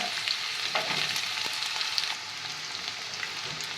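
Peanuts and onions sizzle steadily in hot oil in a pan, a continuous close frying hiss with faint crackles and stirring clicks and no talking.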